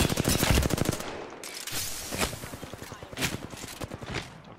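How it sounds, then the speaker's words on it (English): In Apex Legends, a Spitfire light machine gun fires in rapid, evenly spaced bursts of shots, loud and close, with brief pauses between volleys. "I just popped some shots on her to be a dick. Spitfire."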